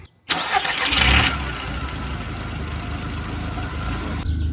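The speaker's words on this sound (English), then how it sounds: "we just had a bit of a rough idle state because the O2 sensor just fired up" A Mk1 Audi TT 225 (8N) engine catches with a loud start, then settles into a steady, slightly uneven rough idle, heard close with no talking.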